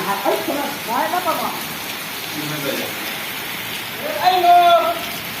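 Rain falls steadily in a Punjab village in Pakistan, a soft continuous patter that runs under intermittent talking.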